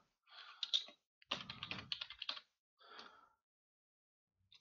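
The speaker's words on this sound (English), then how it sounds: "If we press any other keys, we can type." Fingers type on a computer keyboard in fast clusters of keystrokes, broken by short pauses and a final lone tap, with nobody speaking.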